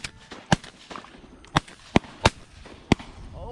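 Gunshots from a long-range shooting video game crack out as five or six sharp, separate reports, spaced unevenly over a few seconds. A faint background murmur runs underneath.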